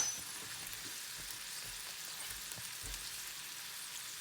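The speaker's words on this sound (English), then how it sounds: "the butter has melted" Butter melting in a freshly seasoned frying pan, giving a faint, steady sizzle with a few light clicks, quiet and continuous throughout.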